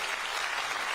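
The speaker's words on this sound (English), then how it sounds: "That's worth some applause" An audience at a county State of the County address breaks into steady, dense applause, a brief wash of many hands clapping at a distance.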